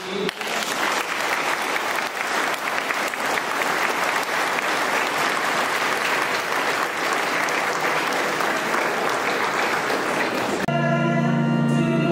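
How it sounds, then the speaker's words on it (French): A congregation applauds inside a church during a baptism, with dense, steady clapping throughout that cuts off abruptly near the end, leaving a sustained tonal sound behind. "on fait d'ores et déjà les applaudissements"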